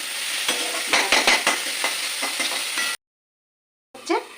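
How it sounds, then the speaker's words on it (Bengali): Onion and ginger stirred and frying in a pan, a steady sizzle with repeated scraping stir strokes for about three seconds, then a short silence and a brief return of sizzling and stirring. "পেঁয়াজের সাথে দিয়ে দেবো একটু আদা একটু নাড়াচাড়া করে একটু ভেজে নেবো"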